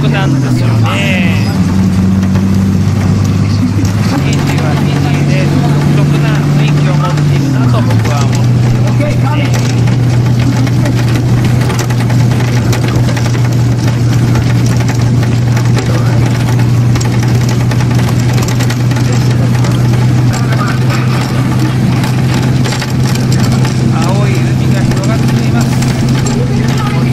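A bus rides along Fiji's south coast from Suva toward Sigatoka, its engine droning steadily and loud throughout, with a low hum that shifts pitch early on as it changes speed, and a voice talking over the engine noise.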